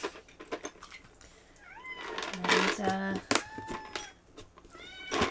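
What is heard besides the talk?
cats meowing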